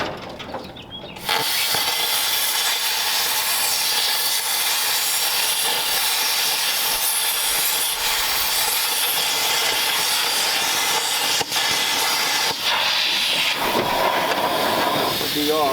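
A steady, loud hissing roar of a cutting gouge torch working off a bolt on a 1938 Ford being scrapped for parts, running continuously with slight flutters throughout.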